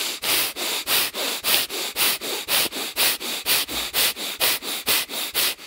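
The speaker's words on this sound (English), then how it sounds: "Deep inhale in through the nose, into the abdomen. Out the nose, and you get pumping." Rapid pumping breaths forced through the nose during yoga practice, a fast even rhythm of about three sharp huffs per second, close and breathy, with no talk.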